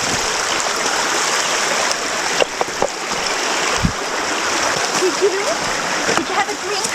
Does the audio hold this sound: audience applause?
no